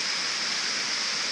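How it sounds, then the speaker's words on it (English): Dense, constant roar of a large artificial waterfall, about 8 meters wide and 7.5 meters high, at the China Ethnic Culture Park in Beijing, a loud and unbroken wash of falling water. "largest waterfall emulation architecture in China"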